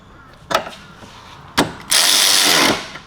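A ratchet tightening thermostat housing bolts on a Hyundai Getz, with two short clicks followed by a sustained rapid ratcheting burst lasting under a second, close up.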